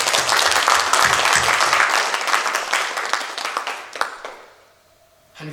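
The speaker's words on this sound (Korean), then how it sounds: "다 한번 박수." A congregation at a fall semester opening worship service of a Korean theological university applauds loudly, the clapping gradually thinning out and fading to near quiet before a voice resumes.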